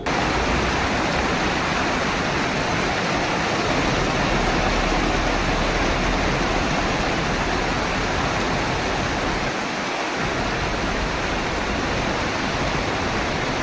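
Dense, steady hiss of heavy rain pouring continuously in a village in Anjar, Kutch, even and loud, with no voices.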